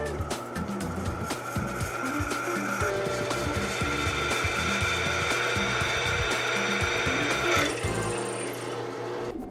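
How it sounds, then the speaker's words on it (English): A power drill runs steadily while drilling holes into a flywheel for a homemade wind generator, a continuous loud whirring grind with shifting pitch and no pauses. "Now it's time to drill."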